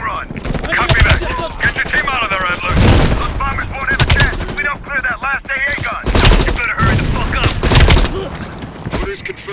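Heavy machine gun fire from a ridge in the Call of Duty Black Ops Cold War campaign finale rattles in loud, dense bursts mixed with other battlefield noise, while voices talk over the shooting throughout.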